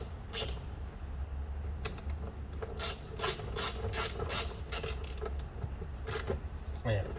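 A part on a Wagner paint sprayer is torqued up with a hand tool, giving a close string of sharp metallic ratchet clicks and creaks in quick bursts over a low hum.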